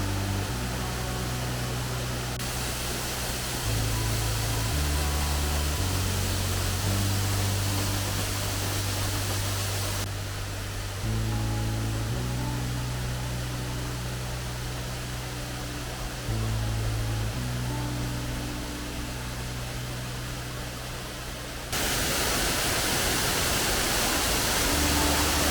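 A waterfall in an icy, snow-covered gorge gives a steady, broad rushing hiss throughout, with background music playing over it.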